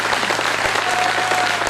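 A poetry gathering audience in Nimbahera gives a loud, dense round of applause. Many hands clap continuously and evenly, close and unbroken, with no voices on top.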